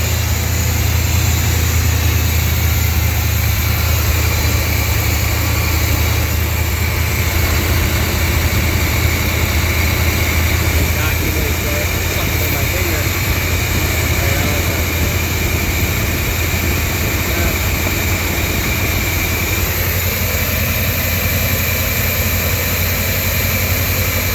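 A one-ton truck engine running as its choke opens, a loud steady droning roar with a low hum that stays constant throughout, no voices.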